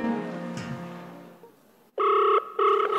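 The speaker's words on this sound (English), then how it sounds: "The aunt's phone is ringing and everyone is almost holding their breath." A phone rings in two loud, close bursts with a short gap between them, inside a church ministry gathering. A fading tonal sound comes before the rings, then a brief near-silence.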